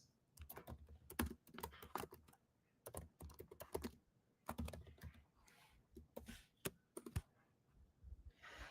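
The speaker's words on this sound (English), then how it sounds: "Let me type what this is." Fingers type on a computer keyboard in irregular bursts of crisp key clicks and clacks, close and fairly quiet, with short pauses between flurries.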